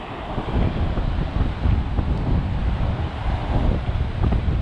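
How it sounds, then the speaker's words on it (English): Strong wind buffets the microphone in a steady, loud rumble that hardly lets up, with no voices, beside a dam and canal ruins in Easton, Pennsylvania. "I hope you can hear me because it's really windy."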